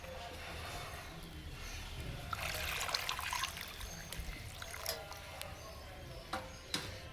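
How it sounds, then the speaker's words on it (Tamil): Water trickles and splashes steadily into a cooking pot on a mud stove, a soft continuous pour with faint clinks, fairly close. "தண்ணி ஊற்றி வேக வச்சிருக்கேன்."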